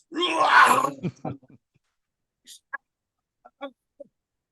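A voice imitates an anguished, raging scream at the top of his lungs, a loud strained howl of about a second, followed by a few faint, scattered short sounds in near silence.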